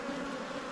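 Honey bees buzz steadily at a hive in an Australian apiary, a dense continuous drone close by with no voices over it.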